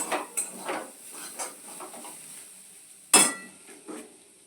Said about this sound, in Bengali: এবার আমি এটা পাত্রের মধ্যে এটা ঢেলে নিলাম